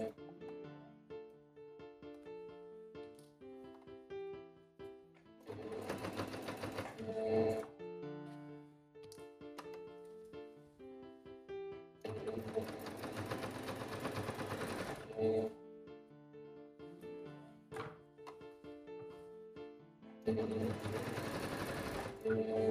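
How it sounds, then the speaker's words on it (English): Sewing machine stitching fabric to turn torn toddler pants into shorts, several loud bursts of rapid mechanical whirring separated by pauses while music plays throughout, close to the microphone. "now I'm ready to start sewing"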